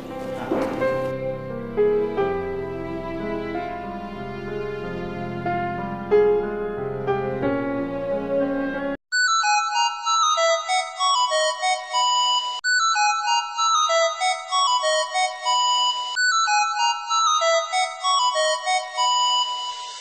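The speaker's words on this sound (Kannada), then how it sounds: "ಫೋನ್ ರಿಂಗ್ ಆಗ್ತಾ ಇದೆ ನೋಡು" A mobile phone ringtone plays as a repeating melodic electronic jingle, looping in bright clean phrases for about eleven seconds after a stretch of softer instrumental music.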